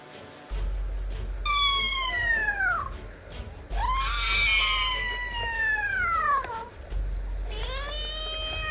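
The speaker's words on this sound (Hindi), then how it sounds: "बिल्ली जब इस तरह चिल्लाती है खतरनाक तरीके से" A kitten yowls in three long, loud, drawn-out wails with falling pitch, separated by short pauses, over a steady low rumble.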